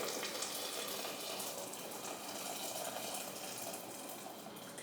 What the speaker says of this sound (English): And then we just pour 1 kettle of hot water.